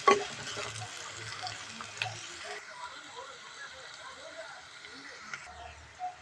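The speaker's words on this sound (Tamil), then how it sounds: "வெங்காயம் போட்டு கொஞ்சம் நல்லா வதங்கட்டும்" Onions sauté in hot oil with mustard seeds and curry leaves, giving a faint, continuous sizzle with a few soft clinks of stirring.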